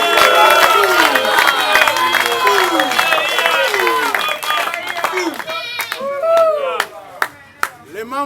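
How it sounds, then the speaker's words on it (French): A loud, dense crowd at a political rally cheers and applauds for the party's secretary general, steady clapping mixed with shouts and whistles that thins out near the end. "Nous acclamons pour notre secrétaire général"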